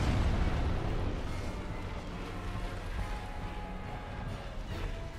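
Explosions in Dark Souls: Remastered rumble in a continuous, booming low roar that stays fairly loud and steady throughout, with no talking.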